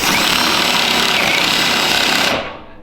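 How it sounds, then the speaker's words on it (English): A small Milwaukee drill with a step bit grinds loudly into metal at close range, a continuous harsh chattering whir that runs steadily for a few seconds and then spins down as the cut ends. "Little Milwaukee drill with the step bit."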